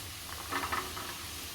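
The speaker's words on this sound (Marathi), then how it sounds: "आपला बटाटा चांगला परतल्या तुपावरती तर मी शेंगदाणे घालते" Potato pieces and peanuts fry in ghee, giving a soft steady sizzle with a brief stirring scrape in the middle; no one speaks.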